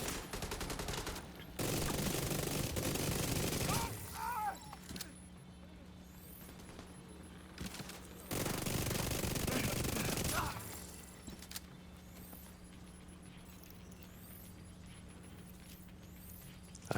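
Light machine gun fire in the video game Division 2, heard as two loud sustained bursts of rapid shots, each lasting about two seconds. Quieter stretches between and after the bursts hold a steady hum and faint clicks.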